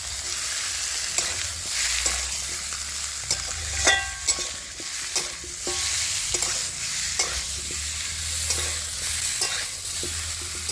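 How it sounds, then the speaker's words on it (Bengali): Bone-in chicken and potatoes fry in spices in a hot pan, a loud steady sizzle broken by repeated scraping and clanking strokes of a stirring spatula, close up. "এবার আমি উইথ বোন চিকেনটাও দিয়ে দেবো এখানটায়, আর সাথে দিয়ে দেবো আলুটাকেও দিয়ে দিচ্ছি"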